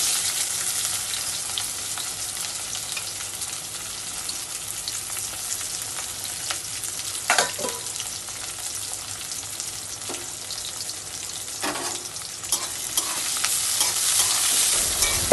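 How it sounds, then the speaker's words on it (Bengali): Chopped onion and green chillies fry in hot oil with a continuous bright crackling sizzle, nearby and steady, broken by occasional sharp scrapes and clacks of a stirring spoon against the pan. "তেল গরম হয়ে গেছে, এবার পেঁয়াজ আর কাঁচা লঙ্কাটাকে দিয়ে দেবো এর মধ্যে, দিয়ে লাল লাল করে এটাকে ভেজে নেবো।"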